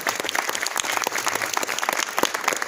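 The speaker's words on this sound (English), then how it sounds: "So let's have a round of applause for all of you." Dense, continuous applause from an audience at a university professional night with industry, many hands clapping at once at an even, loud level without a pause.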